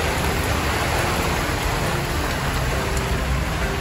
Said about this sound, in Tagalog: Lakas na naman ang ulan